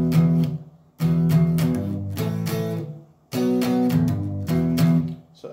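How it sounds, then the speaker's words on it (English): Clean electric guitar with its overdrive switched off plays bright, undistorted chord stabs in two loud, close phrases with a short pause between them, and no one talks. "if I switch the overdrive off, my guitar is going to sound like this"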